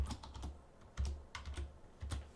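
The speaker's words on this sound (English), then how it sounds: "And they could type in Trump." Typing on a computer keyboard, several short bursts of key taps spread over a couple of seconds, close and fairly quiet, with no talking.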